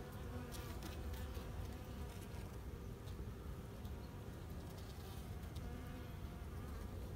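Honeybees buzz steadily around a hive frame, a dense, continuous, faint hum of many wings with no break.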